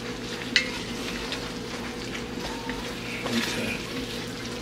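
Gumbo-laya being stirred in a pot, with a soft sizzle and bubbling under occasional scraping of the spoon against the pot, plus one sharp clink near the start.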